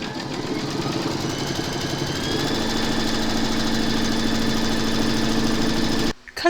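A home embroidery machine stitches a motif in a fast, steady mechanical chatter with a faint motor hum, running continuously for about six seconds before stopping abruptly.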